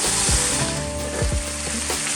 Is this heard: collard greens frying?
yes